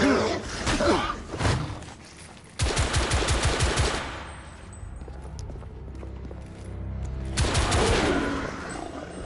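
Rapid bursts of automatic gunfire in The Order: 1886, a loud rattling volley at the start, another dense burst a few seconds in, then a quieter stretch before a final close burst.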